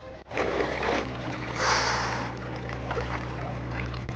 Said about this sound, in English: I'm starting the engine to reach the sheltered bank.